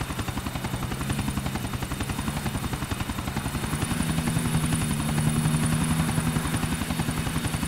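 A helicopter at the airport in the video game GTA IV gives a loud, close, continuous rapid rotor chop over a steady engine drone, growing slightly stronger midway.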